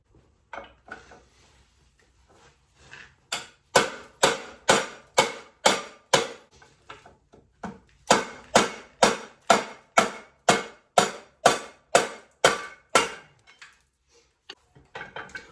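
A classic Mini 1275 A+ engine flywheel being struck repeatedly with a hammer to knock it loose: a long series of sharp, loud metallic blows at a steady beat, close by, with a brief pause partway through.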